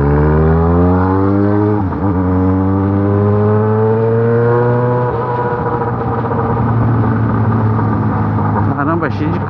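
A Yamaha XJ6 motorcycle with only an aftermarket exhaust pipe accelerates hard toward top speed on a busy road, its loud engine drone rising steadily through the gears, with wind roar and a voice talking over it.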